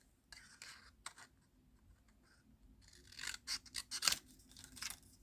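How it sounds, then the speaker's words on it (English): Scissors snip through paper close by, a few scattered cuts at first, then a quicker run of crisp slicing snips. "you can use your paper trimmer or just cut this with scissors."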